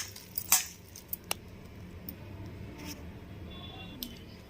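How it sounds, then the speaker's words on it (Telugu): A spoon scrapes and clinks faintly against a bowl while mango pickle pieces are mixed with peanut oil, giving a few sharp taps over a soft, quiet stirring. "ఇప్పుడు అవన్నీ కూడా మంచిగా కలుపుకోవాలి."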